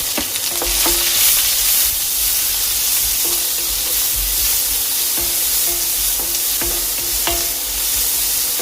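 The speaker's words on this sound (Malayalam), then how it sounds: "അതിലേക്ക് ചതച്ച് വെച്ചിരിക്കുന്ന ഉള്ളി ചേർക്കാം." Crushed onions hit hot oil with curry leaves for a raw plantain curry. A loud, close, continuous sizzle crackles throughout, with occasional light clinks of a spoon against the pan.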